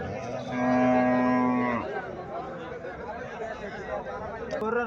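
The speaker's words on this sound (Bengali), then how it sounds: "এখানে একটা গাভী দেখা যাচ্ছে" A Haryana breed cow gives one long, loud, deep moo lasting about a second and a half, followed by people chattering nearby.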